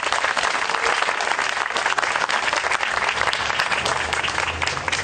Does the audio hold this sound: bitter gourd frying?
no